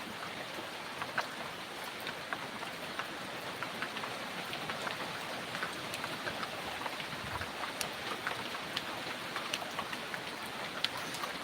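Steady heavy afternoon rain pours down in Bicol, Philippines, a dense continuous hiss of drops with scattered sharper patters on a nearby surface, with no voices.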